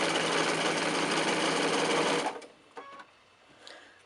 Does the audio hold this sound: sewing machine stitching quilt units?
yes